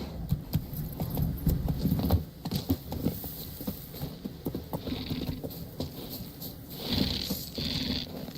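Horse hooves clip-clop in The Witcher 3 in a steady trotting rhythm, with jangling tack and ambient game noise around them, moderately close and with no talk.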